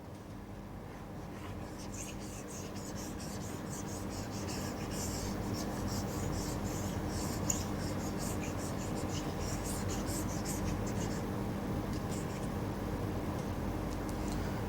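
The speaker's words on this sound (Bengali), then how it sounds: "এটা আমি এখন মুছে দিচ্ছি।" Rapid rubbing strokes from a duster erasing writing on a classroom board, heard as a steady close scrubbing that continues for many seconds over a constant low background hum.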